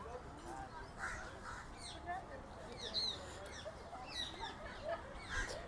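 Crows and other birds caw and call among the shady trees of Sabarmati Ashram in Ahmedabad, beside the Sabarmati River. The calls come in repeated, moderately distant bursts over faint background voices.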